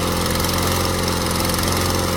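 A small Onan engine on a Miller welder runs steadily up close, a continuous loud droning hum with no breaks or voices.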